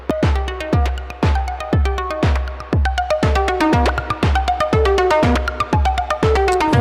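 Plucked, string-like notes from an Erica Synths Pico Voice synthesizer in Karplus-Strong mode, each sharp attack decaying quickly, repeating in a steady rhythmic sequence, loud and close with no talking.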